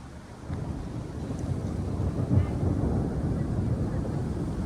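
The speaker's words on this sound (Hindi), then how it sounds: "आवाज़ आई आप लोगों को बादल गरजने की?" Low, distant thunder rumbling steadily beneath wind noise in the mountains of Uttarakhand, swelling slightly and then holding for a few seconds.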